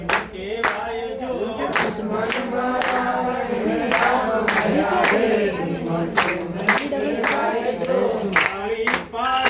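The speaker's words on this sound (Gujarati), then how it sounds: "તાળી પાડો તો મારા સામને બીજી તાળી ના હોય" Clapping from an audience at a Vastu puja gathering in Nashik, sharp irregular claps running throughout beneath a continuous singing or chanting voice.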